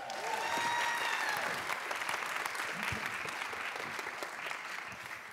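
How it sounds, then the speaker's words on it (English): Audience applause for the organizing team at a conference closing ceremony, a sustained crowd clapping with a few louder close claps and faint cheering and voices mixed in at the start. "can we please get an applause for the organizing team?"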